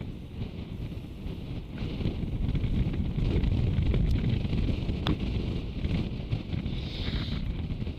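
Wind gusts across an outdoor golf course, a steady broadband rumble buffeting the microphone that swells through the middle and stays loud throughout, with no clear talk over it.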